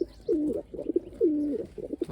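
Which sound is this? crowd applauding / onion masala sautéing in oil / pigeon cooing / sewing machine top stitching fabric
pigeon cooing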